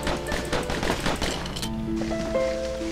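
Rapid gunfire from Bastion, with dense bursts of shots over about a second and a half, then a burst of chiming, tonal game effects ringing out after the shooting stops.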